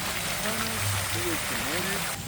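Continuous splashing water from a fountain show in Paris, with faint voices murmuring underneath.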